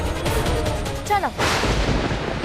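Gunshots in a dramatic TV serial scene, a couple of sharp loud reports with a ringing tail, close and punchy.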